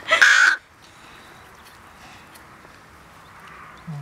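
A rook chick gives a loud, harsh burst of begging caws lasting about half a second while being fed, followed by quiet outdoor background with a faint sound at the end.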